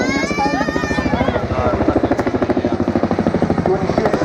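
A 14-ton Chinook twin-rotor helicopter flying a display at an airshow, a loud close rhythmic rotor thudding with a whining turbine tone, continuous throughout, with an announcer talking over it.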